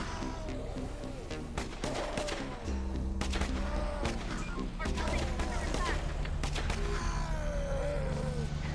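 Scattered gunshots and thuds from a night battle in the survival strategy game Infection Free Zone, isolated bursts over a low rumbling game soundtrack, with someone talking over it.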